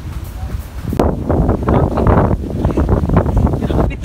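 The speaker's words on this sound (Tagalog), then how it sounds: "grabe talaga kalakas ng hangin" Strong wind buffets the microphone at a beach resort in San Remigio, Cebu, a loud continuous roar with gusting surges and some rumbling low noise, with no clear voices.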